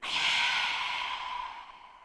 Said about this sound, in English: Lion's breath out.